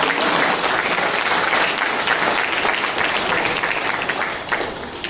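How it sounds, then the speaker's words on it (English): Graduates at an MBA convocation at St Joseph's College, Bangalore, fill a hall with steady, dense applause that stays loud throughout and tapers only slightly at the end. "I think you guys can clap."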